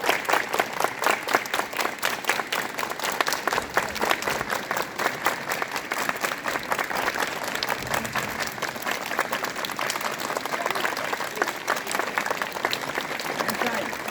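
Students at a school assembly clap in unison, a steady dense rhythm of many hands sustained throughout, with a faint voice of someone leading them audible beneath.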